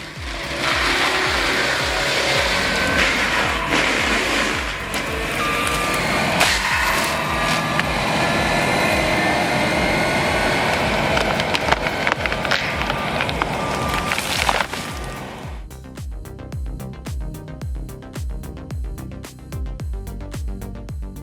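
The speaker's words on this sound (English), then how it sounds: "With 110 HP under the hood and a forestry mulcher spinning at brutal speed, it shreds wood, branches and roots into dust" Forestry mulcher on a DAF 180D / Terex PT110 with a 110 HP engine shredding wood, branches and roots, a loud continuous grinding roar with crunching impacts that cuts off abruptly, leaving a quieter engine rumble.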